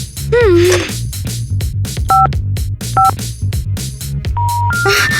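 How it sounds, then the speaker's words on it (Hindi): A telephone number being dialed on a phone in a video game set in a haunted cafe, with several separate keypad tones sounding at uneven intervals over loud game background sounds. "यहाँ पर एक फोन है गाइस। काश हमें नंबर पता होता। और ट्राई करो 67।"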